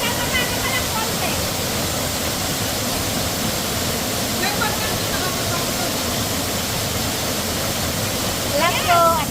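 A waterfall at Malapad, Real, Quezon roars as a loud, continuous broadband rush that fills everything, with faint voices briefly surfacing through the noise.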